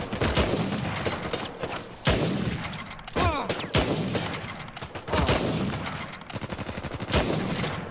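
Uncharted 4 firefight with loud, close bursts of automatic gunfire and sharp single shots in rapid clusters, broken by brief pauses, with no speech.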